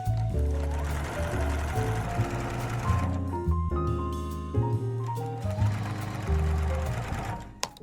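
A sewing machine stitches down the hem of a yukata in steady, continuous mechanical runs, loud and close, with a brief change in pace midway and no talking.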